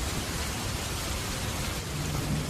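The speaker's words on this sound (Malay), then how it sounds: "Badai angin dan ribut terus mengganas" Heavy rain pours down in a storm off the Kuala Rajang estuary in Sarawak, a dense, unbroken wash of noise with a low rumble beneath it.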